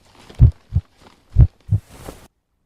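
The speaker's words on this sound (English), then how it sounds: "Oh, it was a heart beating." A heartbeat thumps in a video game, two double beats in slow lub-dub rhythm, loud and close, followed by a brief breathy hiss.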